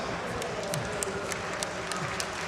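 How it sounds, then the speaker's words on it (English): A crowd in the esports arena at the ESL One Cologne 2014 Counter-Strike playoffs makes a dense wash of cheering and applause, with scattered sharp claps standing out above a steady roar. "there are the crowd ready to cheer on their team"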